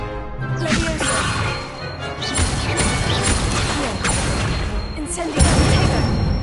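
A Levioso spell cast in the video game Hogwarts Legacy, a busy burst of magical whooshes, crashes and clattering impacts over layered game music and effects, loud and continuous with a sharper hit near the end.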